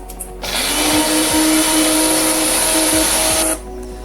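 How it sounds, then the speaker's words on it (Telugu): A mixer grinder whirring loudly and steadily as it grinds mustard seeds and dried red chillies, starting abruptly, running about three seconds at high pitch, then cutting off. "ఒక 2 టీ స్పూన్ల ఆవాలు, 2 ఎండుమిరపకాయలని బాగా గ్రైండ్ చేసుకుని పక్కన పెట్టుకుందాం"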